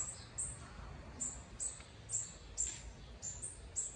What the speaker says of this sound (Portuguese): Os periquitos já tá mexendo, já tá derrubando.